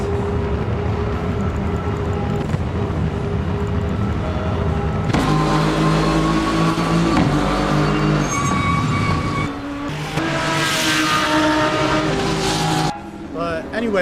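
Engines of race cars roar at the race start in a multiclass league racing video game, a dense steady drone that shifts pitch as cars accelerate, with commentators talking over it.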